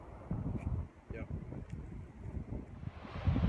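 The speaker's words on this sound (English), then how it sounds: "It's gonna be windy out here, so I apologize up front for the audio." Gusty wind buffets the microphone in low rumbling bursts, with faint speech-like sounds underneath, outdoors at the Nordhouse Dunes in Manistee National Forest.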